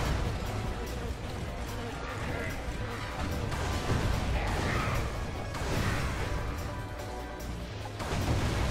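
Cannon blasts and crashing impacts from Ratchet and Clank: Tools of Destruction, shown as repeated booming bursts and whooshes in a dense, loud game soundscape, with someone talking throughout.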